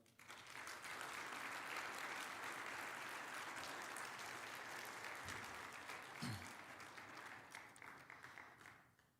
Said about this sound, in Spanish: Para ellos, yo les pido un fuerte aplauso.